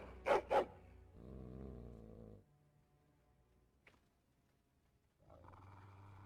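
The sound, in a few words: dog growling at the door in Dragon Age: Origins video game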